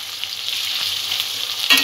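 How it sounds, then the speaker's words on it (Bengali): Onion, tomato, ginger and capsicum frying together in a pan for paneer cutlets, a brief steady hiss of sizzling with a single stir at the end, no voices. "সব কিছু একসঙ্গে একটু ভালো করে ভাজা করে নেব।"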